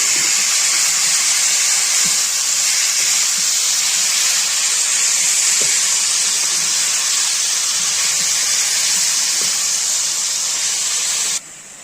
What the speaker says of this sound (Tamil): போட்டுட்டு நம்ம எண்ணெயிலே நல்லா தக்காளியை நல்லா வதக்கிக்குவோம்